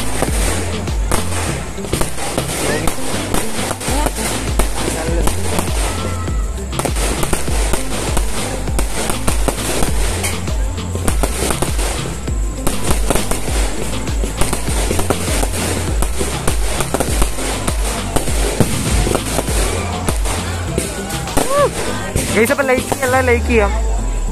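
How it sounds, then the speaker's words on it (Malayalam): Continuous rapid crackling and popping of fireworks, loud and dense throughout, with a few whistling bursts near the end and people talking underneath. "സൊക്കെ ലക്ഷങ്ങളുടെ കുട്ടികളുടെ വെടിക്കെട്ടാണ്"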